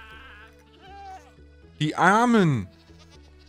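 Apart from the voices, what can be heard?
screaming goats in Minecraft video game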